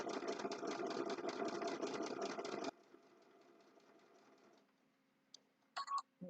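A sewing machine stitching fabric, a close, fast rhythmic whir for under three seconds that drops to a quieter run, then stops, followed by a few clicks and handling sounds.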